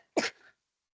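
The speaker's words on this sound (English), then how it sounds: "I sneezed during every one" One short, sharp human sneeze, close and abrupt, with a brief trailing breath after it, then silence.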